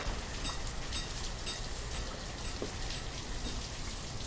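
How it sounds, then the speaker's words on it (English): Steady rain in a video game, a dense even hiss of falling drops and patter on surfaces that holds at constant loudness throughout, with no voices. "this rain sound is not bad at all."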